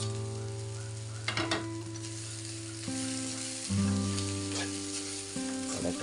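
Cassava leaves sizzle and fry steadily in a hot pan, with a few louder bursts and stirring clatter over a constant hum, no voices present.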